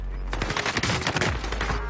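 Rapid machine-gun bursts from a shooter video game, dense overlapping shots rattling steadily for two seconds at moderate level, with no talk over them.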